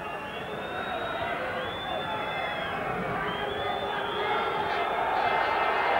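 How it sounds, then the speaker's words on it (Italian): Cagliari supporters roar from the stands of a Belgian football stadium during a 1993–94 UEFA Cup match in Mechelen, a steady wash of crowd noise and chanting running continuously beneath a commentator's voice. "Si fanno sentire i tifosi del Cagliari ora inquadrati dalla regia belga."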